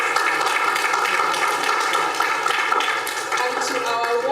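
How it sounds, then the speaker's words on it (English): Audience applause at a human rights, sexuality and law symposium: a steady, dense wash of clapping that holds for several seconds, with a sustained musical tone running underneath. "So please give a round of applause for them."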